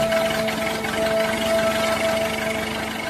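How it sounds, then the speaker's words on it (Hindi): A cartoon car engine idles in a steady, loud mechanical drone with a constant hum and a fast, even rattle throughout, no talk over it. "बाहर आकर गुल्ली गाड़ी स्टार्ट करता है"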